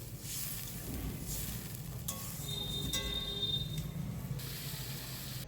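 Water poured into spice paste frying in a pan with turmeric for an egg curry, a steady hiss and sizzle with a brief bubbling, steaming burst in the middle, close and without speech.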